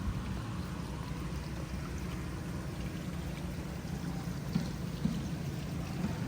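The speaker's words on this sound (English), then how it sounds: "And then of course your waterfall here." A backyard waterfall beside a spa at a model home pours and splashes in a steady, low, even wash, heard alone with no talk.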